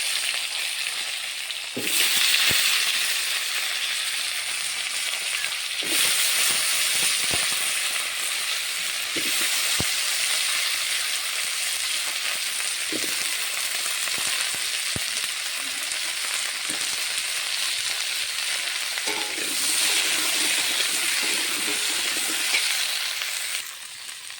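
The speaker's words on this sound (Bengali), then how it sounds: "তেলে কপিটা ভেজে নেব।" Cauliflower fries in hot oil with a steady, broad sizzling hiss that swells and eases over time, close by, with occasional faint utensil knocks.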